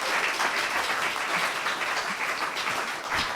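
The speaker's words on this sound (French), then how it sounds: "Oui, on peut l'applaudir." An audience claps in a dense, continuous round of applause that stays fairly even throughout, with no voices standing out above it.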